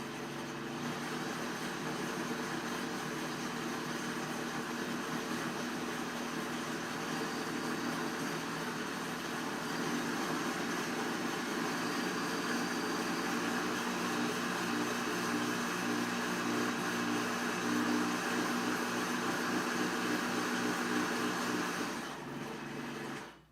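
A blender purees mango at high speed, a loud steady whirring roar that holds for over twenty seconds before cutting off.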